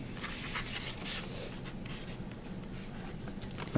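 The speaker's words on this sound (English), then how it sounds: "I need to put my name on all three of these." Pencil or pen writing a name on sheets of paper, close scratchy strokes in quick irregular bursts with brief lifts between letters, fairly quiet and with no voices.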